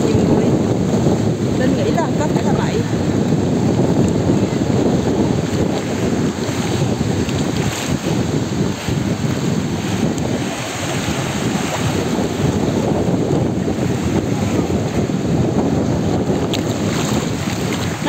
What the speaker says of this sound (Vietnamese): sóng nó đập vào như vậy nhưng mà nó không có rút ra quá nhanh, nó đưa vào thôi.